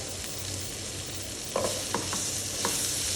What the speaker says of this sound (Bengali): এটাকে একটু ভেজে নিচ্ছি। দিয়ে দিচ্ছি একটু পেঁয়াজ।